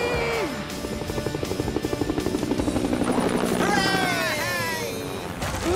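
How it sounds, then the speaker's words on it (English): A cartoon helicopter in PAW Patrol whirs with a steady rotor chop amid bright music and cheerful character voices, the engine buzz rising and falling through the scene. "Next stop, the ultimate copter!"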